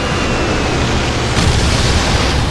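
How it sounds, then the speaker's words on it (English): Loud, dense roaring blast from a Dragon Ball anime fight scene, a sustained rumbling wall of noise that swells further partway through. "like that explosion"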